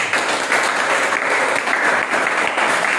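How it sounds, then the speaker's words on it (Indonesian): Audience applause for a presenting group at a class presentation session, a dense, steady clapping that fills the whole stretch at close range with no voices on top. "kita berikan aplaus untuk mereka"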